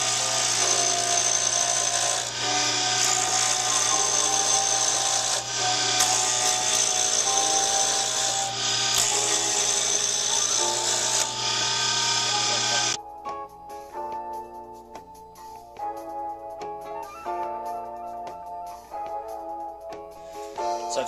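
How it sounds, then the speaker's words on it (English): A wood lathe spins pen material while a gouge cuts it down: a loud, steady whine with scraping and cutting texture, dropping abruptly partway through to a quieter, uneven rattle. "So I've started working the material down with the gouge"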